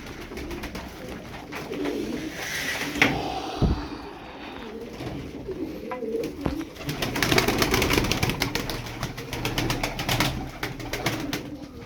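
Pigeons coo repeatedly at an evening bird market, soft throaty calls recurring across the clip amid steady crowd and market bustle.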